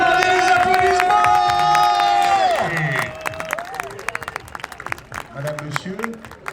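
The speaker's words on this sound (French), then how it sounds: "maintenant vous pouvez applaudir, c'est le premier" At a race finish, a crowd applauds and cheers the first finisher. Scattered claps and shouts follow a long sustained tone, with voices mixed in.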